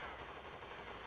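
Rapid bursts of gunfire in the game Shadowgun Deadzone, dense and continuous, filling the whole moment with sharp cracking shots.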